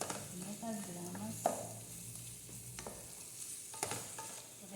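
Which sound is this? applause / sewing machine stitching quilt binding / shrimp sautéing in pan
shrimp sautéing in pan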